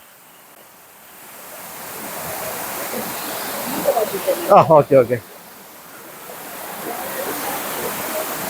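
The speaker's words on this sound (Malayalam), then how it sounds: "ഈ മീൻമുട്ടി വെള്ളച്ചാട്ടം ഇതിന്റെ ഇരമ്പൽ കേൾക്കുന്നുണ്ടോ" A steady rushing roar of falling water at Meenmutty waterfall fills the background, while a couple of people briefly speak and exclaim up close.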